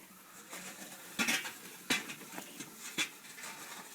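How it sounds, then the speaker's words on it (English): Charcoal tipped into a Weber kettle grill on a porch in the rain, a few scattered clattering rattles and knocks at low level against steady background hiss. "We're going to throw our charcoal on."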